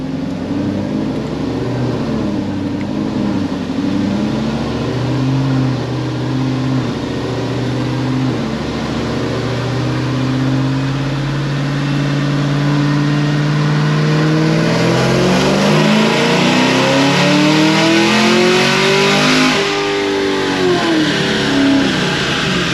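A Whipple-supercharged sixth-generation Camaro ZL1 engine revs up loudly and steadily, its pitch climbing and sweeping over about twenty seconds, heard close and alone with no talking.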